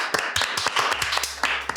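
Sharp, scattered handclaps ring out in a brief burst of applause welcoming listeners, a small group clapping close by with irregular, crisp beats over a quiet low hum.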